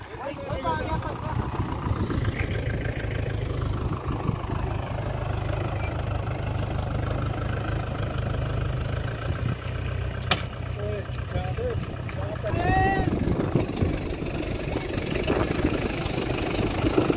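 A Farmtrac 60 tractor idles near deep mud, its engine a steady low rumble running throughout, with people talking over it.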